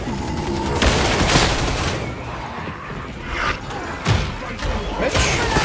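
Automatic auto guns fire in bursts during video game combat, with rapid, loud volleys that stop and restart several times over a mechanical rumble.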